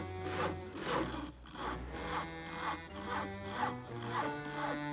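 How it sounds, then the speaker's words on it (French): Cartoon saw cutting wood off a house, a steady rhythmic back-and-forth rasp of about eight strokes with a tonal musical score running beneath it, moderately loud throughout. "Mais il est en train de scier un morceau de ta maison."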